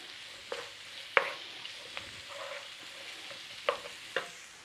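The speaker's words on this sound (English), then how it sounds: "Don't you love that smell of seasoned onions sizzling away in butter?" Seasoned onions sizzling in butter in a pan, a steady soft frying hiss broken by a few sharp pops and spatters, close and moderately quiet with no talking.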